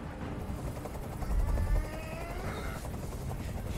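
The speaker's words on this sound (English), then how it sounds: "Tell that helicopter to get out of here." A helicopter hovers nearby in the game Detroit: Become Human, giving a continuous rhythmic rotor chop with a swelling low rumble, moderately loud and steady throughout.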